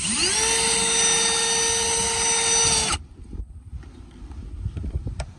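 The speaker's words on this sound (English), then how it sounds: "Let me drill out the rest of these holes" A power drill whines loudly at a steady high pitch for about three seconds while enlarging holes in a 2018 Camaro 1LE front lip, then stops abruptly, leaving faint handling noise and rustling.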